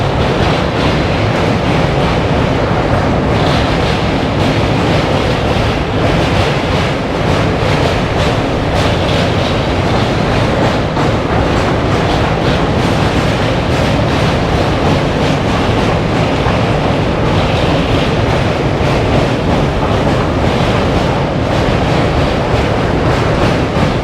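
The Shramjeevi Express rumbles loudly across a bridge, a dense, unbroken roar of wheels and rattling carriages heard close from on board, steady for the whole stretch.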